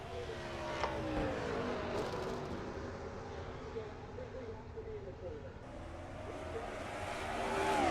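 Racing trucks in an NNSCRA Pizza Hut Truck Series race at Pensacola drone around the oval, a steady engine roar with shifting pitch as they jockey for position, heard at a moderate distance.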